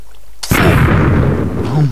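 A creeper explodes in Minecraft, a sudden loud burst after a brief quiet, followed by a rumbling blast tail that fades over a second and a half.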